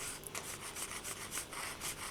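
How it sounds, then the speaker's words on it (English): A polymer clay piece being sanded by hand, giving a soft, steady rasping made of repeated short strokes in an even rhythm, close and fairly quiet, with no voices. "all I'm doing now is I'm seeing how much sanding I can get away with without unsticking this"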